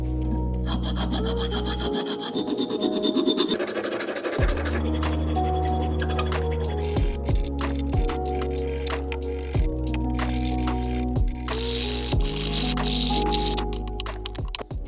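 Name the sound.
filing the center of a powder-coated alternator pulley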